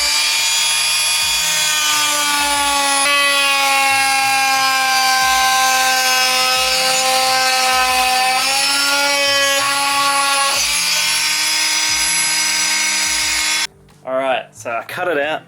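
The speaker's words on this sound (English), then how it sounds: "This one is an Ozito branded renovator." An Ozito Renovator oscillating multi-tool cuts steadily, with a loud, close, high-pitched buzzing whine that shifts pitch slightly as the blade loads. It stops abruptly near the end, and a few short knocks or voices follow.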